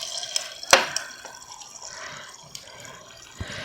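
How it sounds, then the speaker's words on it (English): Filtered water runs into a container over ice cubes, with a sharp clink of ice near the start and a light, close splashing trickle after it, then another faint clink at the end. "And then I'm going to fill it with filtered water."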